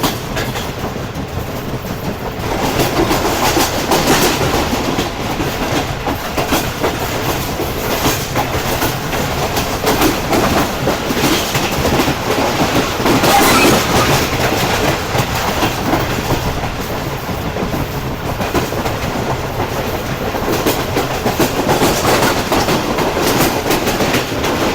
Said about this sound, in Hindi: काफ़ी अच्छी स्पीड में ट्रेन ने शिफ्ट किया है जी डिगरोड जंक्शन को।